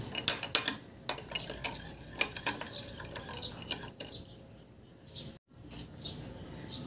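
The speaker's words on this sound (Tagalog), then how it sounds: "Ihalo lang din hanggang sa matunaw lang din yung asukal." A spoon stirs and clinks against a bowl to dissolve sugar for an okra salad dressing. The scraping and tapping come in bursts and stay close but fairly quiet, with faint bird chirps in the background.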